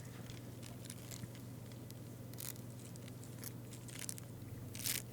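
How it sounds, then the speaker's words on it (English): Hornet larvae inside a large nest in a tree trunk scrape their mandibles against the cell walls, making soft, irregular crunching and crackling scratches that come in brief bursts over a steady low hum. "They're scraping their mandibles on the cell walls to get the adults to feed them."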